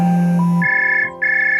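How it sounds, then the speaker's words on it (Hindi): A mobile phone rings with an incoming call from a son. A loud, close electronic ringtone plays a low tone, then steps up to a higher repeating beep with a brief dip between pulses. "तभी उसके बेटे का फोन आ जाता है"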